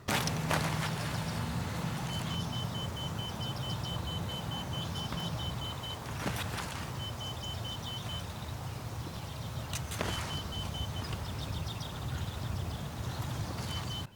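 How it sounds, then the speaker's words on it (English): Security camera in a video game that locks onto the player, tracking movement with beeps, giving repeated faint high beeps in short evenly spaced runs over a low ambient rumble with scattered knocks. "it actually locks onto you and tracks your movement while making a beeping noise"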